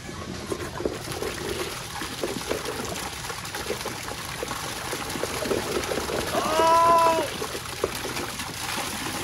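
Water trickles and pours steadily into a toilet bowl, a soft continuous running sound with a brief swell near the end.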